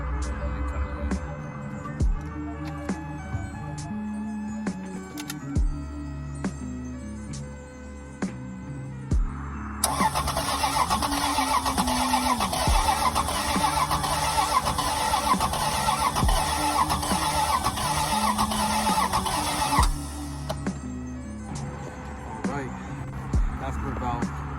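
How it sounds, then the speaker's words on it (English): A fire-damaged Lexus GS300 cranks over with the starter whirring steadily, a louder, brighter cranking burst running about ten seconds in the middle, and a voice talking over a low rumble. "After about cranking the car for 10 seconds, 4 times each time"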